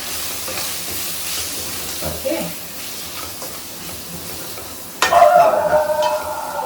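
Spices with a pinch of Kashmiri chilli powder are stirred in a hot frying pan, giving a soft steady scraping sizzle that bursts into a louder hiss near the end, with a brief spoken word over it.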